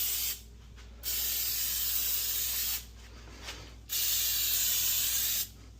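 Two long, steady aerosol bursts of silicone lubricant sprayed onto garage door roller shafts and hinge pivot points, close and loud, separated by short pauses, with no talking.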